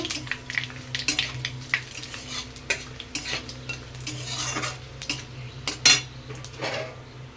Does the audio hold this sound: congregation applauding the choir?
no